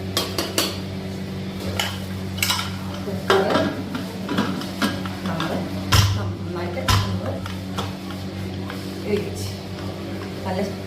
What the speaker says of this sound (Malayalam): നമ്മൾ ഇതിനെ ഒന്ന് ഇളക്കി ഇളക്കി ഇളക്കി